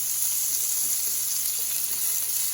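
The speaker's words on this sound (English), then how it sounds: "bacon sizzling in cast iron is one of the great sounds in the world" Bacon sizzles steadily in a cast iron pan, a dense, close crackle and hiss with no voices.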